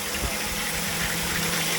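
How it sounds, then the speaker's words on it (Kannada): Water pouring down from above into a water purifier near the Ermayi waterfalls at Ujire, a steady loud broadband rush with no break and no voices. "ವಾಟರ್ ಪ್ಯೂರಿಫೈರ್ ನೀರು ಮೇಲ್ಗಡೆಯಿಂದ ಬರ್ತಾ ಇದೆ"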